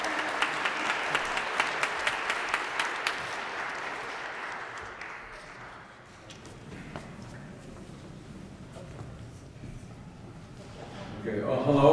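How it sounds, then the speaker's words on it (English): Audience applause for a panel of speakers at a political event, dense and steady at first, then thinning and fading into quieter room noise before swelling again at the end. "Quick round of applause for our panelists."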